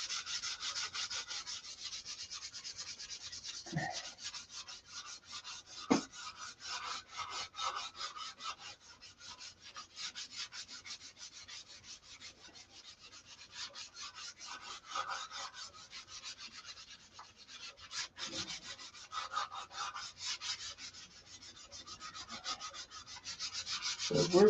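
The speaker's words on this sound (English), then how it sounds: "So we're going to do some sanding." Hand sanding a Viper car's finish: a steady, close rasping rub of sandpaper over the body, continuing without pause, with a few brief knocks along the way and no talking.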